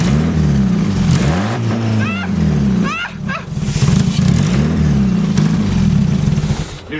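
A Mazda Miata engine fitted to a kart revs hard in repeated rising surges, then sags and stumbles as if dying at high revs from fuel starvation; loud and close, with brief squeaks and people talking over it.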